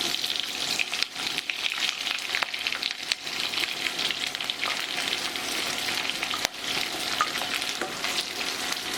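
Onions fry in hot oil for a pepper sauce, a steady dense sizzle with scattered crackles and spatters running continuously and fairly close, no voices over it.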